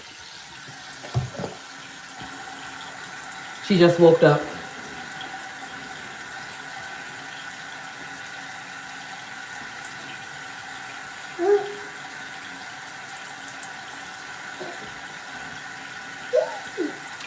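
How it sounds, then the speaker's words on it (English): Tap water runs steadily into a sink while it warms up for face washing, a continuous rushing hiss with a few brief voices talking over it. "Let's let the water get warmed up."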